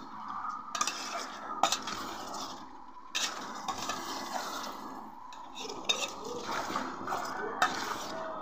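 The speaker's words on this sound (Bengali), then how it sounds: "ভালো করে আমি একটু নেড়ে চেড়ে নিচ্ছি।" A spoon stirs pigeon meat and potatoes in a cooking pot, with intermittent scraping clinks against the metal and a soft sizzle underneath, close and moderately loud.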